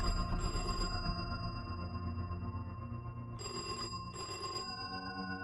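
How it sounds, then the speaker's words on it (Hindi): A telephone bell rings in a quiet room, two bursts of bright electronic trilling separated by a pause, over a low background drone. "तभी एकदम से एक टेलीफोन की घंटी बजने लगी।"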